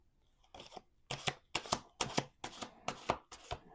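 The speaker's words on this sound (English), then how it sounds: "Let's do 2 more shuffles." Playing cards shuffled in quick riffles, seven or so crisp bursts of fluttering snaps in a steady rhythm, close and fairly quiet, with no talking.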